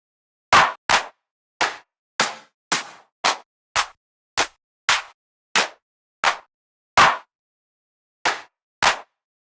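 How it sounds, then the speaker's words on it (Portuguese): A tech house clap sample plays alone, fourteen dry, punchy claps hit one at a time with short decays and silent gaps, mostly evenly spaced with a longer pause near the end. "Vou chegar aqui no clap."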